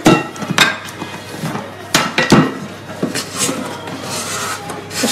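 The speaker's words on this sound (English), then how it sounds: "Just scrape it down with one of my scrapers." A scraper works shortbread dough down the sides of a mixing bowl, giving repeated scraping and knocking strokes against the bowl with sharp thumps, close and fairly loud.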